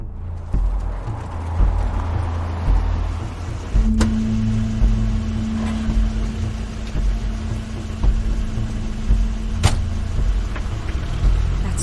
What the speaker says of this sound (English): Crane's car.